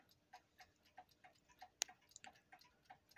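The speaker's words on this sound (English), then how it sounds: "And behind it is a Spartus 1970s alarm clock." A Spartus alarm clock from the 1970s ticks in a quiet room, a soft, even beat of roughly three ticks per second, heard close with no talk.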